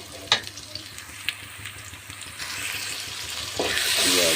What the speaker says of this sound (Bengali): দুটো তেজপাতা লবঙ্গ ইলাচ গোলমরিচ দারচিনি এগুলো দিয়ে ভালো করে ভেজে নিচ্ছি